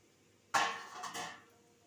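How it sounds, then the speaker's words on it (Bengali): A metal lid lifted off a cooking pot of eggplant, one bright clanking scrape followed by a second softer metallic knock, close and fairly quiet in a kitchen. "ঢাকাটা তুললাম"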